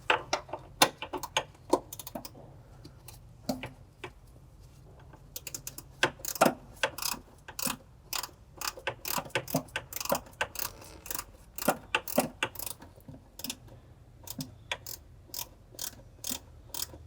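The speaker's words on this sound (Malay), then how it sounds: "Ketatkan juga dua bolt 10 mm yang tadi." A ratchet clicks in quick, uneven bursts while tightening 10 mm bracket bolts on the firewall of a Proton Saga during a brake master cylinder replacement, close and fairly crisp with short pauses between runs.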